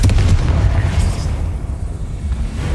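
Confringo fire spell blasting in Hogwarts Legacy, loud continuous booming explosions with heavy low rumble and crackling bursts throughout.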